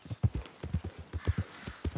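Horse hooves clip-clopping in Red Dead Redemption 2, a steady, close, rhythmic walking gait of soft thuds repeating evenly throughout, with no talk over it.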